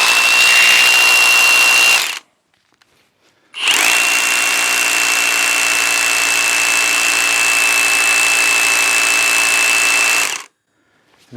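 A Bauer 20V brushless 1-inch SDS rotary hammer bores into concrete with rebar, giving two loud sustained bursts with a steady high whine and hammering rattle, about two seconds then seven seconds, split by a short silence.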